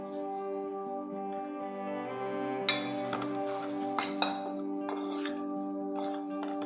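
Cauliflower is mixed with ginger garlic paste and tomato ketchup in a bowl, heard as a few sharp clinks and scrapes of a utensil against the dish over a steady tonal hum in the room.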